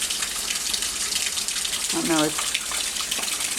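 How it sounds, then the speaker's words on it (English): Steady rain from Hurricane Joaquin pours down as a constant broadband hiss, with a short spoken phrase over it midway. "the rain has arrived."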